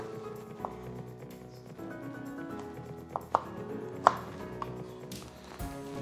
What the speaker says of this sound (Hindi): थोड़े से कैशू नट्स, उन्हें भी मोटे मोटे पीसेस में काट दें